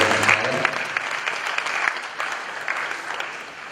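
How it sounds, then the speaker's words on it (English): Audience applause fills an awards ceremony honouring the Asantehene, with steady, dense clapping from a sizeable crowd that holds at moderate loudness and tapers slightly toward the end. "A round of applause one more time for the Hene"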